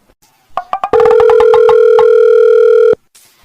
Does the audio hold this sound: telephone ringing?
yes